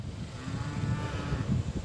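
A cow being herded into a paddock lets out a low, drawn-out moo, moderately near, over outdoor background noise.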